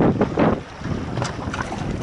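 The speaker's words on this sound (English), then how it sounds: "I say the wind's picking up." Wind gusts buffet the microphone aboard a fishing boat out on the water, a rough, fluttering roar with choppy low bursts over about two seconds and no talking.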